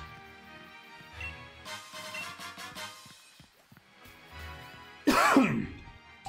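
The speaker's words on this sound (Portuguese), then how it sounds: "eu tô tossindo" A person clears their throat and coughs while playing a Pokémon game, a short harsh burst near the end standing out over quieter game music and sounds.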